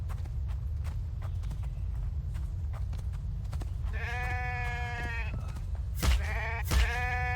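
Sheep in the video game The Infected bleating, two drawn-out bleats preceded by scattered thuds and rustling, followed by a couple of short sharp cries, close and clear.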